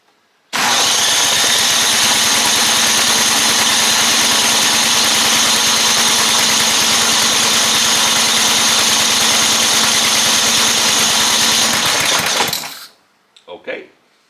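A lawn mower engine, primed and choked after being stuck in deep snow, runs steadily and loudly from start to finish, then shuts off abruptly, leaving a few faint knocks.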